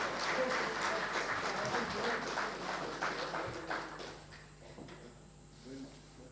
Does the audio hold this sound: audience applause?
yes